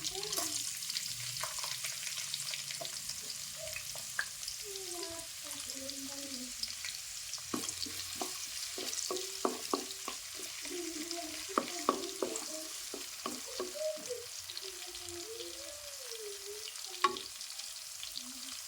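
Onions and cumin seeds fry in hot oil, giving a faint, continuous sizzle broken by light stirring clicks, with a quiet tonal voice-like sound drifting in the background.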